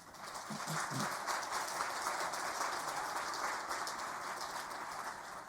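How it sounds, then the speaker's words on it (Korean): A church congregation at a Sunday worship service applauds the pastor's family, a dense, steady wash of many hands clapping that fills the room from start to finish, with a few faint voices underneath near the beginning. "한번 일어서 주시면 우리 박수로 한번 격려할까요?"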